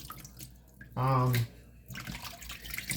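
Tap water runs briefly and loudly into a sink while chitterlings are rinsed, a short gushing burst between quieter kitchen handling noises.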